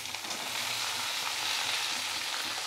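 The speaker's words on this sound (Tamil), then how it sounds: "பூண்டு பெரிய வெங்காயம் நல்லா கோல்டனாக வதங்கட்டும்" Garlic and big onions frying in a pan for a tomato-free chutney, a steady close hiss of sizzling oil with faint stirring, no voices.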